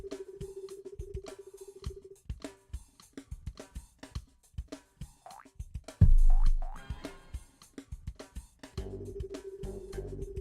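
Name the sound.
Frogger frog hop boink sound in video game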